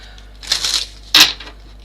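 Tarot cards being shuffled by hand in two short bursts, a longer riffle followed by a sharper, louder one, close up with no talk over them.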